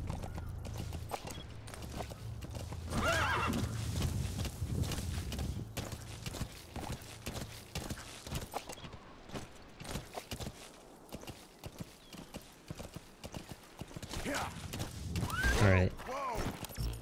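A horse gallops in Metal Gear Solid V: The Phantom Pain, its steady clip-clop of hooves running under game sound and someone talking throughout.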